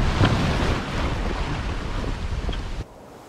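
Wind rushing over the microphone with waves washing past a sailing boat running downwind under gennaker, a loud continuous roar that drops suddenly to quiet near the end.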